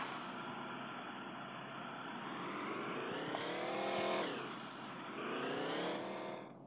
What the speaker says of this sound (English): the tank is moving